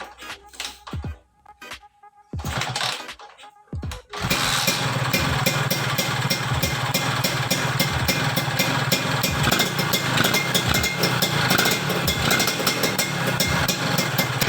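A two-stroke motorcycle, long parked, is kicked over a few times with brief sputters, then catches and idles loudly and steadily to warm up, a close rattling buzz.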